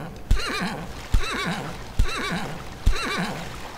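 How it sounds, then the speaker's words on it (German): Donkey sounds from MineClone2, a Minecraft clone on the Minetest engine: four repeated braying calls at an even rhythm, each opening with a sharp thump and then a wavering, warbling bray, close and clear with no speech. "Oh, was ist denn da für ein Tier? Es ist ein Esel!"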